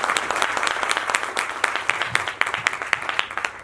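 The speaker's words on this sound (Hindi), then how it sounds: "एक बार और तालियां होते हैं" An audience at a mega seminar in Delhi claps loudly and continuously, a dense, even patter of many hands throughout.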